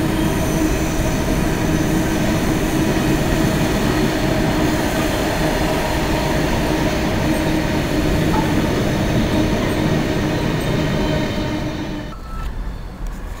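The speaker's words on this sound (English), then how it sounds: "On a Lafarge aggregate train with something in the middle." A Lafarge aggregate freight train rolls past at Nuneaton, its loud, steady roar of wagons and wheels filling nearly the whole stretch before dropping away abruptly at the end, heard alone.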